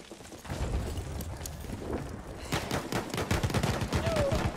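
Gunfire in the Battlefield 1 multiplayer video game, with a spawn gun bombarding an area: continuous rapid bursts of shots and explosive impacts, loud and dense, growing heavier toward the end.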